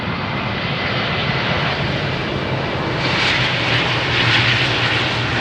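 An Icelandair airliner in old livery roars steadily as it lands on runway 18R at Amsterdam Schiphol, a loud, continuous engine rush that builds slightly toward the end with no voices.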